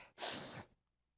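One sharp, breathy sneeze bursts out up close, followed by quiet.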